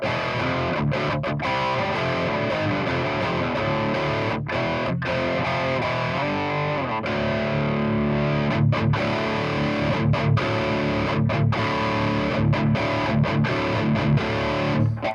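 Heavily distorted electric guitar through a Peavey 6505+ high-gain amp with gain around 3, chugging and ringing out with a thick, saturated rock tone, steady and loud with brief gaps between phrases.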